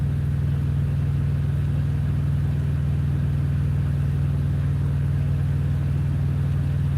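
A slow truck drives through a flooded street on a rainy night, its engine a steady, loud low rumble that holds without a break and with no voices over it.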